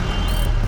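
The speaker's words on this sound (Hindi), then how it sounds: "कितना खूबसूरत ट्रैफिक जैम है ये" Trucks stuck in a mountain traffic jam in Kinnaur Valley, Himachal Pradesh, with a short, loud burst of reversing beeps over a constant low engine rumble.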